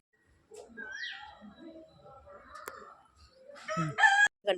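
A rooster crows nearby, a rising call trailing off, with people talking softly around it and louder clucking and chatter toward the end.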